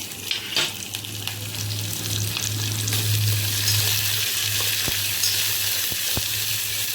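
Onions and green chilies frying in a pan with peanuts make a loud, close, steady sizzle, with a low hum underneath and sharp spoon taps and scrapes scattered through. No voices are heard.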